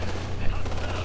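Quick burst of gunfire from the PDR rifle in Ghost Recon: Future Soldier on PC, a dense, steady crackle filling the whole short moment over a low rumble.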